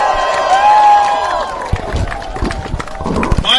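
Cheering crowd at a downtown park rally against racial discrimination, with loud whoops and voices carrying over clapping that fades into scattered claps and shouts near the end.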